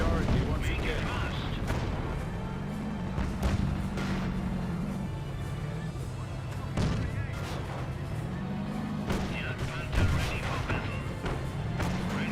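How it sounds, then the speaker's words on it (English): An artillery barrage in a Company of Heroes battle, with repeated heavy booms and crashing impacts scattered over a rumbling battlefield while a voice talks throughout. "That was the actual barrage,"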